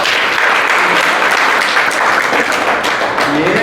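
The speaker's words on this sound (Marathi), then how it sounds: "तर टाळ्या वाजवून अभिनंदन केलं पाहिजे" A lecture audience on drip irrigation and farm water management bursts into steady, close, dense applause that lasts a few seconds.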